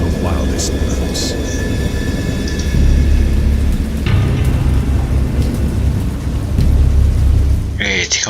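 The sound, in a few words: thunderstorm in a horror video game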